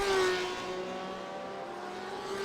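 BMW and Porsche GTE race cars in a sim-racing league at the Catalunya circuit, a sustained engine drone with high whining tones holding steady at speed, continuous and moderately loud with no voices.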